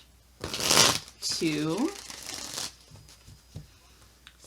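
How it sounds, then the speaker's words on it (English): A deck of tarot cards is shuffled during a Capricorn reading: a dense, close riffling burst of about half a second, followed by a person speaking over softer card handling. "All right, we're going to shuffle 3 times."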